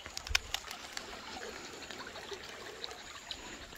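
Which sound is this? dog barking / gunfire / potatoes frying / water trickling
water trickling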